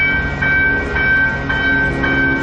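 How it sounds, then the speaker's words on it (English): A VTA light rail train arriving, with a loud steady rumble, a sustained high tonal whine and a rhythmic ringing pulse about every half second. "VTA train comes."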